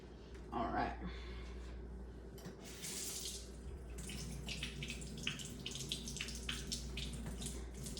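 Tap water runs into a sink as it is rinsed out, a steady close splashing stream with a few brief interruptions and clatters, while a person talks at times.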